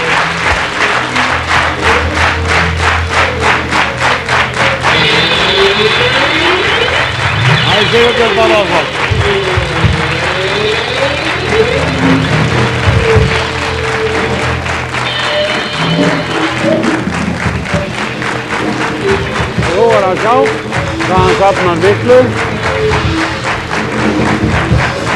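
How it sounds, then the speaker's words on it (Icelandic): Audience applause at a 1994 theatre show in Reykjavík's Loftkastalinn, dense clapping running steadily throughout under someone talking over it, with occasional thumps. "Og klappa fyrir honum."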